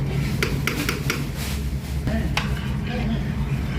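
Rice being stirred into tomato sauce in a pan for chicken tomato biryani, with a steady low simmering rumble, a few sharp scraping and clinking spoon hits against the pan, and light sizzling throughout.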